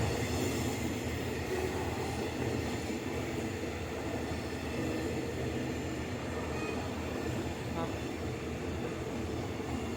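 A CNR special express train rolls through Kaeng Khoi Junction station at night, a steady dense rumble of wheels and carriages filling the whole stretch, with a person talking over it.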